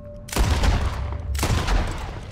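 Two loud bursts of gunfire in the Red Dead Redemption 2 video game, each a sharp blast with a long booming tail, about a second apart, with no talk over them.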